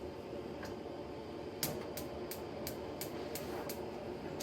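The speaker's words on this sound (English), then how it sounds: "Yeah, you hear that clicking sound." A kitchen igniter clicks out sparks in a quick, even series of about seven sharp ticks, moderately close, over a steady background hiss with no talking.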